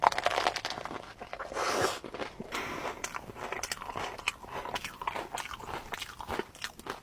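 Bites into a crunchy white chocolate peanut praline treat make sharp, close crunches, followed by a run of crackly chewing with no talking.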